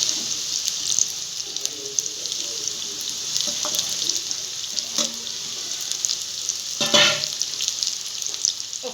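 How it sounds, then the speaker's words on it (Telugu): Soya chunks (meal maker) frying in hot oil on a medium stove for a soya curry, giving a steady hiss with scattered crackles and a brief louder sizzling burst near the end, close and without talk. "స్టవ్ మొత్తం మీడియంలో పెట్టి ఒక 15 మినిట్స్ వరకు వేపాలండి"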